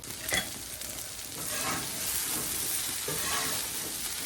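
Breakfast food sizzles on an outdoor barbecue grill plate, a steady, close hiss with a few light knocks and shuffles as the pieces are tossed, and no one speaking.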